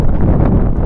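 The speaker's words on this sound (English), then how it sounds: "it's really getting windy" Outdoor wind buffeting a microphone, a loud, low, rumbling roar that fills the whole brief moment with no other distinct sounds.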